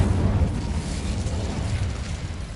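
Incendio fire spell cast in Hogwarts Legacy: a loud, rumbling whoosh of flame with heavy low-end roar that holds steadily for a few seconds.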